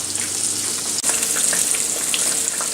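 Breaded green tomato slices frying in a pan, a close continuous sizzle with crackling pops throughout and one sharp click near the start.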